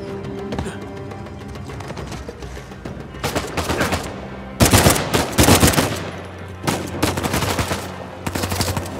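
Gunfire in Uncharted 4 during an ambush: rapid automatic bursts crackle in clusters, loud and close, with short gaps between volleys.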